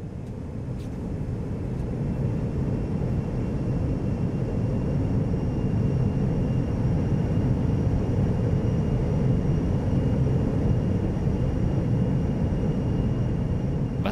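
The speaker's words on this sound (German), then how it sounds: "Was wir hören, klingt wie das Brummen eines Flugzeugs, begleitet von einem hohen Pfeifton." Low, steady drone from the singing sand dune Khongoryn Els in Mongolia, a broad airplane-like hum lasting throughout with a faint, thin high whistling tone held above it, continuous and fairly loud with no voices.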